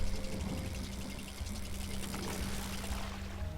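Water in the video game Quern pours and splashes in a steady, close, bubbling stream, as when a bowl is filled, with a low hum underneath.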